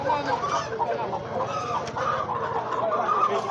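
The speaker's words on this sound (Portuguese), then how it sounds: "Tem mais galinha aqui, ó." Free-range capoeira chickens cluck steadily at an outdoor poultry market in Altinho, Pernambuco, with overlapping hen calls and murmuring voices of the crowd beneath.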